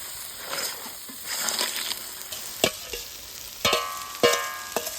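Crab and water hyacinth sauté and stir in a pan, a close sizzle under a series of scraping spoon strokes and a few sharper clacks against the metal.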